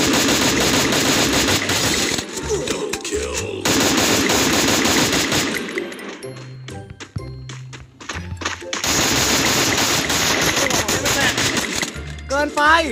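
Rapid automatic gunfire from the Free Fire video game rattles loud and nearly continuous, with short pauses and bursts of single shots, under game effects and occasional voice.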